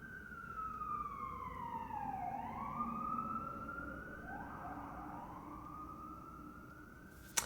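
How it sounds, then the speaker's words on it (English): An emergency vehicle siren passes outdoors, wailing up and down in long sweeping tones over steady background rumble, fairly faint and distant, with a short sharp knock at the very end. "let the siren pass first"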